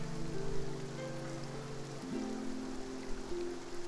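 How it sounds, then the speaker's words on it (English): Steady rain falls across Fontaine in Genshin Impact, a soft, even hiss of drops on surfaces that holds through the whole stretch, with faint tonal music lines running underneath. "Looks like rain."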